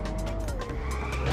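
Tires screech and spin under a revving engine as a car skids in the arcade racing game Inertial Drift, a loud, continuous squeal of burning rubber lasting the whole moment.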